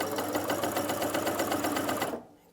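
A Janome CoverPro 3000 coverstitch machine stitches scrap fabric in a fast, steady, loud mechanical whir that runs without pause for about two seconds, then cuts out abruptly.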